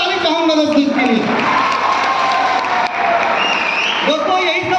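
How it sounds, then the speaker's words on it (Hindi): An audience at a business plan presentation breaks into loud, sustained clapping with some crowd noise, while a voice carries on over it. "तो एक बार जोरदार ताली चाहूंगा दोस्तों इसके लिए"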